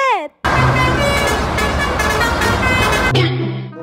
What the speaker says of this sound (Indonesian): Widih-widih, ada mobil telolet-telolet.